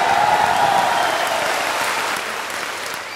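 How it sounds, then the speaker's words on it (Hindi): Loud rally crowd applauding in welcome at an election campaign meeting, a dense steady wash of clapping that fades slightly toward the end, with no voices over it. "एक बार जोरदार ताली बजा के उनका स्वागत करेंगे"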